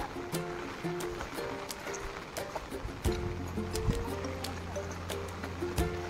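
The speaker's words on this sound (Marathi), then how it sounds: "वरतून पडणारा पाऊस. आणि हा आहे आमचा स्पॉट, धबधबा, मिनी धबधबा" Rain falling around a small waterfall beside a village river: a steady rushing wash of water with scattered sharp drips and splashes, close and continuous, with faint background voices and tonal sounds mixed in.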